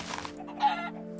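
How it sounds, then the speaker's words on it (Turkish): In the Minecraft video game, a chicken gives a couple of short clucks over a steady, droning tonal background, fairly close, with no voices. "Mesela şurada bir tavuk gördüm."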